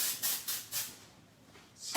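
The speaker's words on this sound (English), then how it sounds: "using a little bit of the Orbe dry texture spray" Short bursts of Oribe dry texture spray hiss onto dry hair during a bob haircut, three quick close puffs followed by a softer pause and a final burst.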